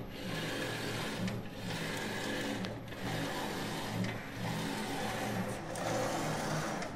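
A UV flatbed printer, sized 420 x 620 mm, runs a print job with a steady mechanical whir and hum and periodic sliding sweeps of the print head carriage, loud and continuous with no voices.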